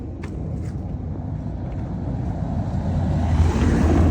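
Cars rolling over a cobblestone street in Porto, a steady rumbling tire roar that grows louder as a vehicle draws closer toward the end.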